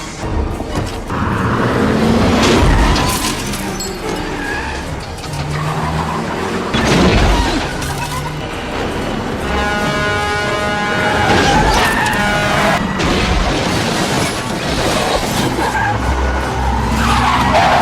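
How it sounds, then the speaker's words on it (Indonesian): A car with failed brakes skids at high speed, its tires shrieking in a loud, sustained squeal that rises and falls with engine roar and a few heavy thuds. "mobil yang dikendarai mafia dengan Terry tiba-tiba mengalami remblong saat berkendara dengan kecepatan tinggi"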